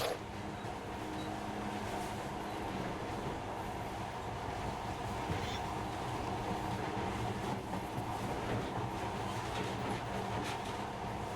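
Monorail train in Metro: Last Light Redux running at steady speed, giving a continuous rumbling, rattling drone with no breaks.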